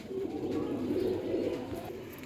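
A female Rampuri Chinese-type flying pigeon with golden plumage coos in a low, throaty rolling call, close and fairly soft, heard alone over about two seconds.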